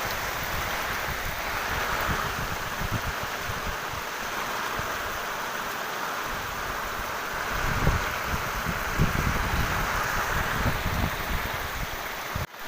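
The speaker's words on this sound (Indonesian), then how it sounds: "Hujan dulu, hujan." Steady rain falling outdoors at a reservoir, a continuous broadband hiss with scattered low thumps and rustles, fairly faint and without speech.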